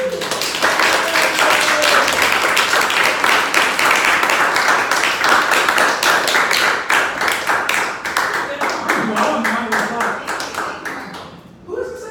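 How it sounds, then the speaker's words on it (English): An audience at an ensemble theatre performance gives sustained, dense applause that carries on for about ten seconds. Individual claps stand out sharply within it before it thins and fades at the end. "Now, give them a round of applause."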